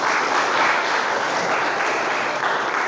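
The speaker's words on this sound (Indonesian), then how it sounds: "Kita kasih aplaus dulu lah buat Adityo." An audience applauds for Adityo at a school talk, steady sustained clapping from a crowd filling the whole moment, with no speech over it.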